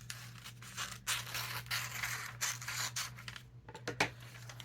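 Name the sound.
cutting the top off a magazine page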